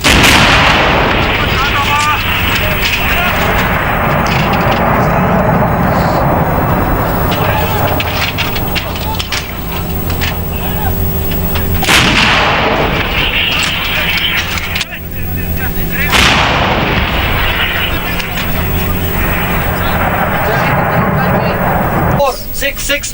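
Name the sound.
artillery gunfire, Kargil War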